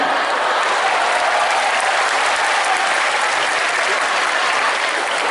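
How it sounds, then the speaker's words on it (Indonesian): A stand-up comedy audience at a show in Aceh breaks into dense, steady applause that holds loud and even for about five seconds, a continuous wash of many hands with no talk over it. "Boleh tepuk tangan?"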